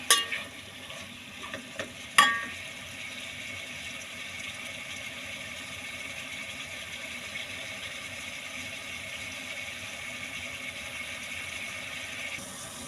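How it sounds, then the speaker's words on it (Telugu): Mutton frying in a pan with drumstick pieces, a steady soft sizzle throughout, opening with a few clanks of a utensil against the pan before settling into continuous quiet frying. "కొంచెం బ్రౌన్ కలర్ వచ్చిందాక వేయించుకుంటున్నాను. మటన్ వేసుకున్నాను."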